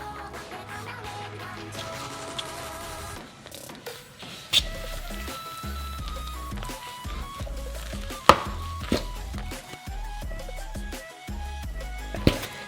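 A spoon works melonpan dough round a bowl in a steady run of dull knocks and scraping thumps, with a musical backing underneath.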